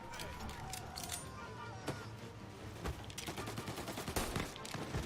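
Video game gunfire landing headshots, sharp bursts and single shots scattered across the stretch, some in quick rapid runs, mixed with game effects and someone talking over it.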